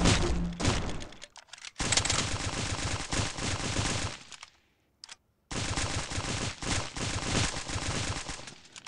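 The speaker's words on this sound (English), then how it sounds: "I'm gonna use my scar and just the grenade launcher." Rapid automatic rifle fire and grenade launcher blasts in the Stick Warfare video game, loud dense bursts with a brief silent gap near the middle before the firing resumes.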